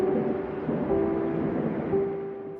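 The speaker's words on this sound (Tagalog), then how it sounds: "hindi yun nakatulong dahil sa lakas ng buhos ng ulan" A heavy downpour with rolling thunder in a Filipino drama makes a dense, continuous roar of rain under a low rumbling swell. A faint steady tone runs through it, and no voices are heard.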